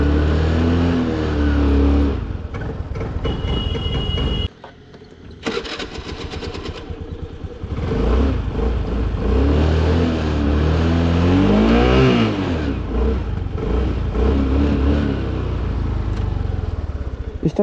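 A vehicle engine that had run out of fuel starts up after refuelling and keeps running with a steady rumble, briefly dipping before revving again, close by and continuous, with people talking over it.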